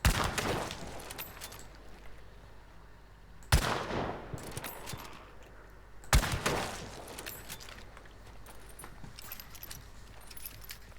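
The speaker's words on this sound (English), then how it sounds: "I know I should not be shooting things because then the other things will hear the things" Gunfire in the video game Hunt: Showdown, with two sharp, loud shots several seconds apart, each trailing off in a long echoing decay over a noisy in-game background.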